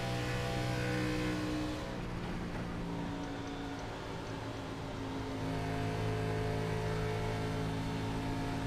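A race car engine in the iRacing sim at Michigan drones steadily at high revs, a loud continuous whine with a slight dip and swell midway, no voices.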